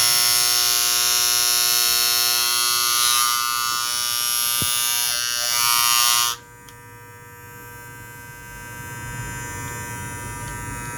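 Barber hair clippers buzz steadily up close while the blade tension is adjusted, a bright dense hum that drops abruptly to a quieter, lower running tone about two thirds of the way through.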